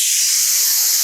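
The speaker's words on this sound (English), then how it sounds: "This is a dry steam," Dry, microfine steam from a Laura Star steam iron gives a steady, close, loud hiss that runs unbroken throughout.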